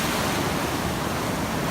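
Ocean waves on a beach in Cartagena, Colombia, a constant loud wash of surf with wind buffeting the microphone.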